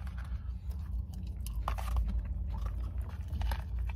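Someone eats a grilled sweet chilli chicken wrap, with soft chewing and a few crunchy bites close to the mic over a steady low background hum.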